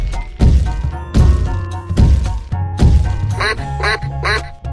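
A duck quacking in a video game, several loud close quacks near the end, preceded by heavy thumping and thudding game sounds.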